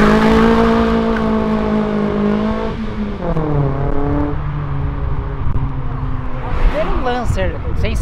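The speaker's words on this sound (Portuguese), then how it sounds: "Gostei do ronco do carro dele." Fiat Marea tuned to 700 hp doing a tire burnout at a car meet, engine roaring loud and sustained, pitch dipping then climbing as it revs, with crowd noise and voices rising near the end.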